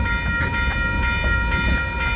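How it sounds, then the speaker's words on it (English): A short freight train rolls past a crossing in St Paul, a loud steady rumble with tonal wheel and rail whine and faint rhythmic clacking, close by and continuous. "Okay, that was a short train."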